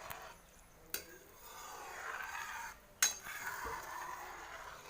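A lid is set onto a cooking pot of fish curry left to simmer, giving two distinct metallic clanks a couple of seconds apart over a quiet bubbling hiss in a home kitchen.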